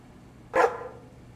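A dog barks once in Crime Scene Cleaner Simulator, a single short close bark over quiet background.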